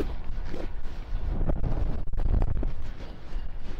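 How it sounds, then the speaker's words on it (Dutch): Strong, gusty wind buffets the microphone outdoors during a magnet fishing outing in Winschoten, a loud continuous low rumble with surges and brief dips throughout. "het is een enorme harde wind vandaag"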